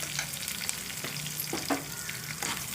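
Curry leaves crackle and sizzle in hot oil, a close, busy frying sound with sharp pops and stirring scrapes, no voices.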